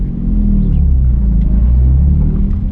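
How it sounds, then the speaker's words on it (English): A manual car pulls away from a dead stop as the clutch is let out and gas applied, heard from inside as a loud, steady low engine rumble with no talking. "So we're at a dead stop, letting off the clutch, giving it gas."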